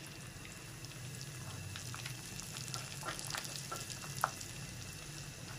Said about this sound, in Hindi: सूजी को इतना हमने फ्राई करना है इस पे गोल्डन कलर आ जाए